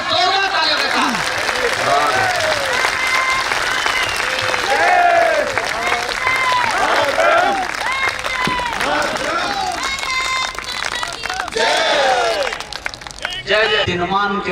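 A poetry gathering's audience applauds loudly for the army, with sustained clapping and crowd noise while a voice speaks over it throughout.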